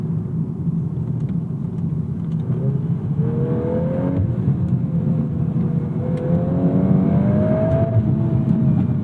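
Volkswagen Golf R Mk8 or Acura Integra Type S hot hatch pushed into a drift, with a loud steady engine drone and a rising whine as the revs climb, sustained close throughout.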